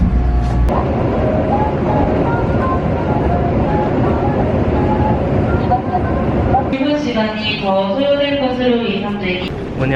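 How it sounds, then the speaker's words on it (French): Seoul subway train pulls into a station in Korea with a loud, steady rumble and roar. A chime melody then plays over the platform while people talk nearby. "Ça veut dire que le métro arrive."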